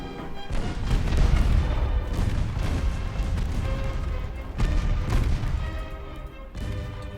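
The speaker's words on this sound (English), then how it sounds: "Fire my torpedoes at that second destroyer" Dense, booming naval gunfire and explosions roll on continuously during a torpedo attack on a destroyer in the Ultimate Admiral Dreadnoughts naval warfare game, with heavy thuds and crashes layered throughout.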